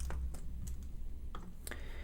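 Short bursts of keystrokes on a computer keyboard, a few quick clicks at a time separated by brief pauses, close and moderately loud over a low steady hum.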